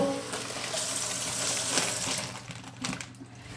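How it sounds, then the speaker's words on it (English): Water is poured into a cooking pan, a steady close gushing splash for a few seconds that thins out toward the end. "I put the water in the pan"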